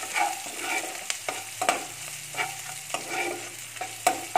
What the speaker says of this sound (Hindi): और प्याज को हल्का ब्राउन होने तक पकाएंगे।